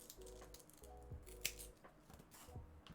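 Ordinary scissors snipping small pieces of velcro for picture cards, a few crisp close cuts spaced out over quiet room tone with faint incidental handling.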